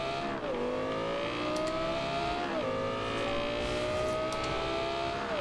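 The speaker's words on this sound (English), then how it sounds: "This is one of my new favorite exhaust sounds" A virtual 2013 Audi R8 in Forza Horizon 2 roars steadily through its exhaust, revving and pulling through two upshifts with brief pitch drops, loud and close throughout with no talk.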